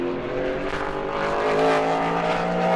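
A super late model race car roars steadily through a qualifying lap at New Smyrna, its engine note holding loud and close with a slight rise in pitch, no talk over it.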